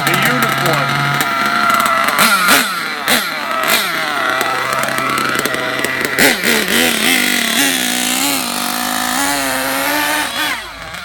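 Novarossi R.28-7M nitro RC engine on its first start-up, buzzing loudly and steadily with repeated rev changes and sharp revs, while people talk over it throughout.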